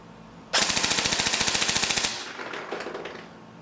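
A Tokyo Marui M4A1 Socom airsoft gun fires on full auto, a loud, rapid, even burst of mechanical cracks lasting about a second and a half, followed by softer clicks and rattling handling noise.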